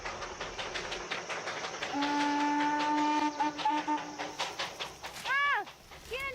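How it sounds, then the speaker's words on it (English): A train rumbles and clatters below hill-station mountains, its whistle sounding a long steady tone and then shorter blasts, echoing up from the valleys at a moderate distance. "the sounds of the train they brought echo up from the valleys"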